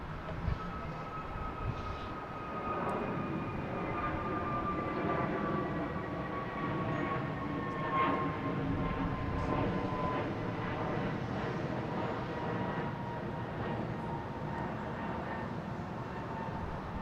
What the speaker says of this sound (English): Now we got Air Portugal heading to Lisbon. A321 Neo, flight 218.